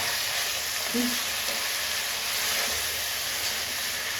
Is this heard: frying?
yes